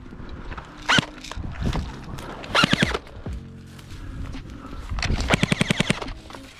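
Airsoft gunfire during a game with a G&G UMP45 at an outdoor field: several rapid bursts of snappy shots, a short volley near the start, another around the middle and a longer fast string near the end, close and loud among rustling movement.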